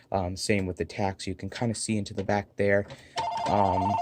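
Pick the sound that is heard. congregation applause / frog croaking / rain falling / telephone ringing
telephone ringing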